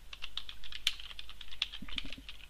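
Text being typed on a computer keyboard, a brisk series of close, sharp key taps at an uneven rhythm with a few heavier strokes, no speech over it.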